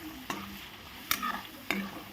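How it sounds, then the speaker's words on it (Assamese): Cumin and dried chilli paste spits in hot oil with soft sizzling. Three sharp bursts break through as small splashes of water hit the pan, and each one crackles briefly. "আটাইখিনি ভালদৰে এনেকৈ পানী দি অলপ অলপকৈ ভাজিব লাগিব।"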